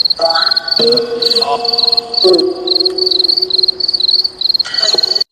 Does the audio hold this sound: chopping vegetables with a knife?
no